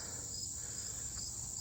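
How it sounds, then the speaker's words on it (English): Steady, high-pitched chirping of crickets fills the air continuously, an even outdoor night chorus in Murrysville, Pennsylvania, with no other sounds. "You can hear the crickets chirping"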